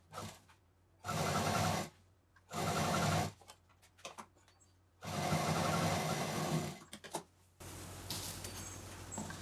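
Sewing machine stitching a reversed zipper and piping onto a handmade duffel bag, running in several bursts of steady whirring separated by pauses, close and clear with no talk.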